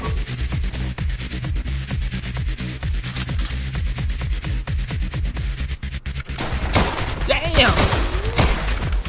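Rapid, evenly spaced gunshots from an animated action sequence fire in a long steady stream, then give way to impacts and scuffling with a person talking over the top.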